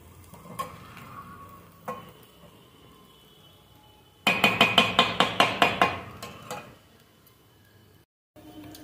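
A spoon scrapes and taps rhythmically through vegetable sagu as ghee is mixed in, giving a quick run of about a dozen sharp knocks, with softer, sparser stirring clatter before and after.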